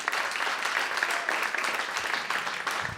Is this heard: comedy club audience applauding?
yes